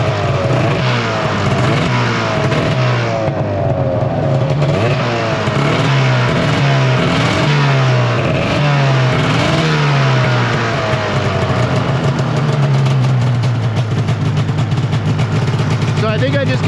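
An old Arctic Cat Firecat F6 snowmobile engine runs loud and close, its pitch climbing and dipping through repeated throttle blips before settling into a steadier drone near the end.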